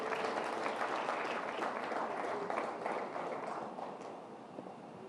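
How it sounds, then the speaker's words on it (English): An audience at a speech event claps steadily for several seconds, a dense, close wash of applause that holds even and then tapers slightly toward the end. "Please give him a round of applause."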